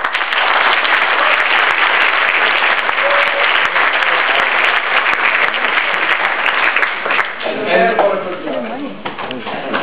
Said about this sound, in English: give just another very, very strong round of applause for all the winners